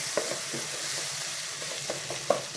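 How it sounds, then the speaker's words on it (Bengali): Onion, green chili and garlic frying in oil, a constant hissing sizzle with occasional soft scrapes and taps as they are stirred, close and steady with no voices. "এখানে আম্মু পেঁয়াজ, কাঁচা মরিচ, রসুন তেলের মধ্যে দিয়ে নাড়তেছে"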